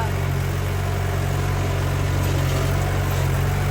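An old tractor engine idles close by in a field, a loud, steady low rumble with a rapid even chugging throb that holds unchanged throughout.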